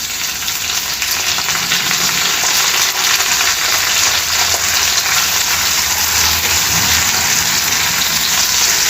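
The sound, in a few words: chopped onions frying in a pan with dried red chillies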